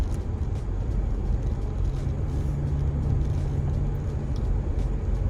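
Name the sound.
BMW 335i car driving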